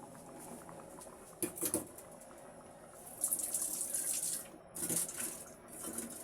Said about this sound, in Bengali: এবার ঝোলটা ফুটে উঠলে আমি বেগুন এবং মাছগুলো দিয়ে দেব।